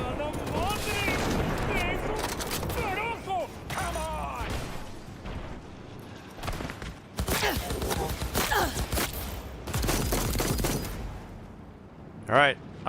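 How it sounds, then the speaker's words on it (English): Gunfire in the Night City streets of the video game Cyberpunk: bursts of rapid shots and booms, loud and dense, broken by brief lulls, with someone talking over the fighting. "You're shooting guns, so I'm shooting guns."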